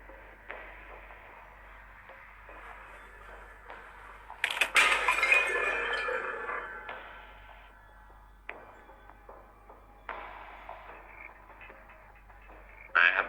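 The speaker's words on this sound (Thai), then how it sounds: "น่าจะกระจกแตกช้านิดนึงนะฮะ" A glass window shatters in the Identity V video game with a loud, bright crash midway through. Quieter clinks and game sounds come before and after it.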